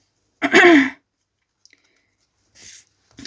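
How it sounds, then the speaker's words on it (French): A person coughs and clears their throat indoors, one loud close rasping burst followed by a pause and two softer short coughs. "Excusez-moi, mais je tousse encore."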